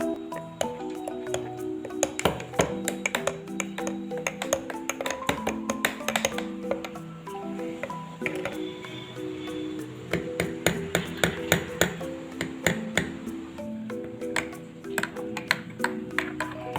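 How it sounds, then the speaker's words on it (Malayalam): A spoon stirs Dalgona coffee in a glass, producing a quick series of bright, ringing clinks against the glass in an uneven rhythm, close and clear with no speech. "നമ്മളിത് കുടിക്കാൻ നേരത്ത് ഒന്ന് മിക്സ് ചെയ്ത് സ്പൂൺ കൊണ്ട് മിക്സ് ചെയ്താണ് കുടിക്കാൻ"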